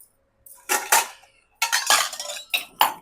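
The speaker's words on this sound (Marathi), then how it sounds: "काढते आता ह्याच्यात लोणचं." Dishes and cutlery clink in a home kitchen as homemade pickle is scooped out to serve, several sharp bursts of clattering with short pauses between them, close and fairly loud.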